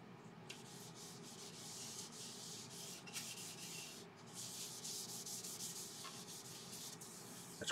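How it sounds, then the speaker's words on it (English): A laburnum wood bowl with a live edge is sanded while it spins on a lathe, giving a steady, close, continuous abrasive rasp with slight surges and no talk. "It's quite nasty when you're sanding it."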